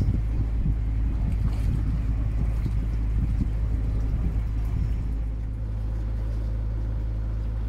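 Wind gusts across a boat cruising the Intracoastal Waterway near Georgetown, making a continuous low rumble and buffeting with steady microphone wind noise.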